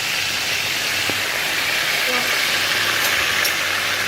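Steady broadband sizzling hiss of tatashe frying in a pan, constant and close, with faint clinks and background noise.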